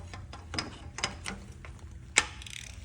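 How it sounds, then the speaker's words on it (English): A ratchet turning a spark plug socket on a GM engine, such as an Impala SS, Monte Carlo SS or Buick, makes a few quiet, separate clicks, followed by one sharper metallic snap near the end. "Grab your spark plug socket and ratchet, make sure it's set to off."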